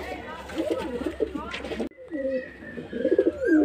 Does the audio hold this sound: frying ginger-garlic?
no